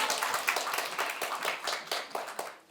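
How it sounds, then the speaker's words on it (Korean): An audience at a Korean public lecture on happiness claps in a dense, steady patter of many hands for a few seconds, fairly quiet and unaccompanied by talk. "박수를 치려면 크게 치세요."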